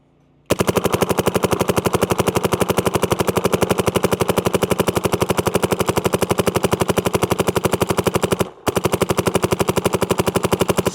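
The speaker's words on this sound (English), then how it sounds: "I'm gonna shoot over the sign so we can hear a little sound signature." An Empire Mini GS paintball marker fires in rapid, evenly spaced full-auto bursts outdoors at a paintball field, loud and close, with one brief break before the fire resumes.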